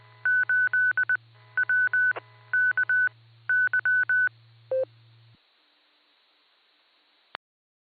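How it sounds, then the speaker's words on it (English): A 147.39 MHz amateur radio repeater is keyed up repeatedly, sending a rapid series of bursts of beeping touch-tone dial tones over a humming carrier, then a final short click after a pause of near silence. "that was someone on Fireside keying up repeatedly"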